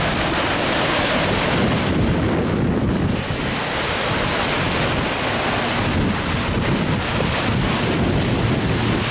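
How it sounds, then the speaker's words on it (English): Blustery wind gusts over a lake on a cloudy, cool day, with waves lapping steadily and heavy wind buffeting the microphone throughout, loud and continuous with no voices. "It's a windy day, blustery, cloudy."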